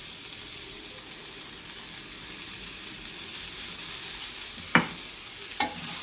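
A leafy Malabar spinach vegetable curry cooks in a pan with a quiet, even hiss of frying, broken near the end by two brief clacks of the stirring spoon; no one speaks.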